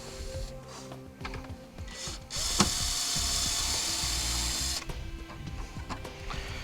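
A hand ratchet clicks away steadily, quiet and close, as it backs out a trailer panel bolt on a 2014 Toyota Sienna, with brief pauses between runs of rapid clicking.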